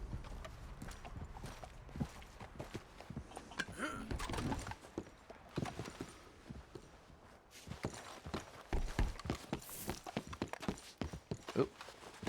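A horse's hooves clip-clop at a steady walking pace in Red Dead Redemption 2, close and moderately loud, with a brief whinny-like sound and some faint game clatter in the background.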